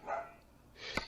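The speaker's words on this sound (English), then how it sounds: "You have to excuse the dog going off about something." A dog barks twice somewhere in a house, faint and somewhat distant, with a short pause between the two barks.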